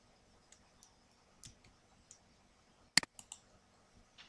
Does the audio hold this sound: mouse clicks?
yes